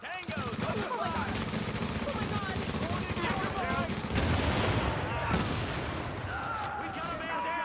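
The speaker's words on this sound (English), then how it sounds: "More gunfire." Video game gunfire rattles almost nonstop in rapid automatic bursts and scattered single shots, loud and dense throughout, with distant chatter and pops layered underneath.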